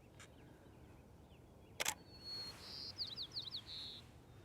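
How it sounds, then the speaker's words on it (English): Birdsong at sunrise in Snohomish, Washington: after a brief sharp click, a few thin, high chirps and short trilled phrases ring out over a steady low outdoor hum, moderately distant and fairly faint. "Hopefully you can hear all these birds."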